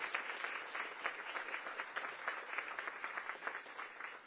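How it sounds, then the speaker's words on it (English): An audience applauds at the ribbon-cutting ceremony for Cedar Hill Regional Medical Center GW Health, a steady, fairly dense wash of hand claps throughout with no voices. "Give yourselves a round of applause."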